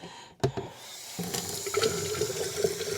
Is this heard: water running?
yes